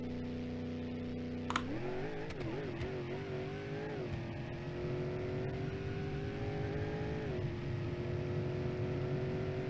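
A car engine in BeamNG.drive, a RoadKill General Hawks project, idles steadily, then revs up with a wavering pitch and holds a loud, strained drone for several seconds.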